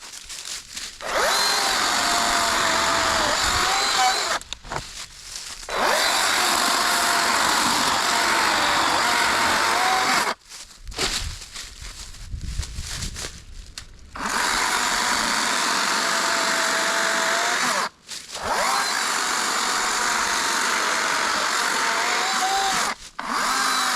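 A Kobalt 40V cordless saw cutting rough 12-inch oak outdoors, its loud steady whine running in long bursts with short pauses between cuts.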